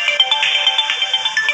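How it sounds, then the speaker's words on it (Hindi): A phone ringtone for an incoming call plays steadily and fairly loud for the whole stretch, a bright repeating electronic melody with no voices over it. "गाइस फ़ोन आ गया है फिर,"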